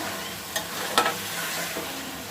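Chicken karahi frying gently over low heat, a soft steady sizzle with a few brief scrapes and clinks of a spoon stirring through the pan, close and fairly quiet, no voices.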